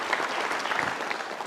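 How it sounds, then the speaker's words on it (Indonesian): Studio audience applause on a television talk show, a brief, steady burst of many hands clapping. "Untuk Mata Najwa kita kasih tepuk tangan, silakan Romo dan juga Gus Mus."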